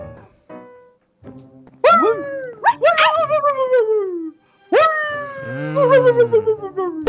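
Several dogs next door in a Minecraft game bark, yip and howl in a loud, close overlapping chorus, with long rising and falling howls between sharper yelps and no talking.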